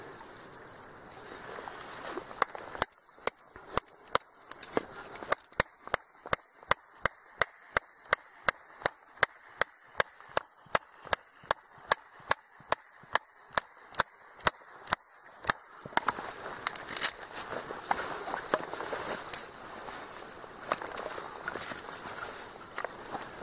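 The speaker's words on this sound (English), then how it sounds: "you won't harm your blade when you split a piece of wood" Wood split with a blade on the ground while hiking in the woods: a long series of sharp, evenly spaced knocks, close and crisp, followed by rustling and scraping of wood.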